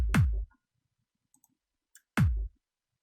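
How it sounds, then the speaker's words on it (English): Two hits of a trance kick drum sample from an FL Studio FPC kit, each a punchy click attack dropping into a deep booming tail, spaced about two seconds apart with near silence between. "So I have here the kick."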